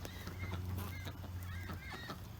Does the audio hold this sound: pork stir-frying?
no